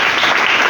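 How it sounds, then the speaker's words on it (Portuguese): A Pentecostal church congregation in Mogi Guaçu breaks into loud, dense clapping for Jesus, a brief close burst of many hands applauding together. "Palmas para Jesus."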